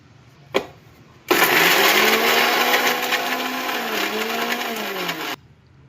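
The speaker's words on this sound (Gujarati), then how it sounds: "50-60 ગ્રામ ગાંઠિયાનો ભૂકો કરી નાખીએ" A mixer grinder crushes gathiya, the fried gram-flour snack, into powder for Saurashtra-style red gathiya chutney: a short click, then about four seconds of loud, steady motor whirring and grinding that stops abruptly.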